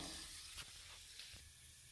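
Yogurt goes into cooked banana stem in a hot pan on a switched-off stove, giving a soft, steady hiss and sizzle with faint stirring, quiet and close, with no talk.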